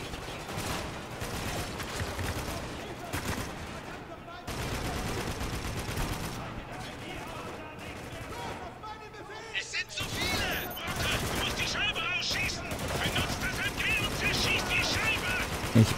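Dense gunfire in the shooter Spec Ops: The Line, rapid automatic bursts and scattered shots from several directions, loud and continuous over sixteen seconds, with someone talking over the battle.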